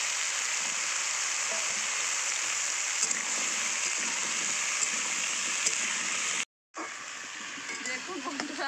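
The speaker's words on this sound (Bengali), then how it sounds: "দিয়ে দেবো ফোড়নে কালো জিরে, দিয়ে দেবো কেটে রাখা আলু" Cut potatoes and nigella seeds frying in hot oil give a steady, close sizzle throughout, with a brief drop-out near the end before the sizzling resumes.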